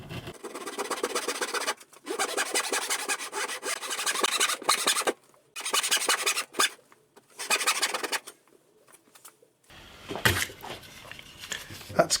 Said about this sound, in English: today I'm going to use my my best saw, and just going to go for it.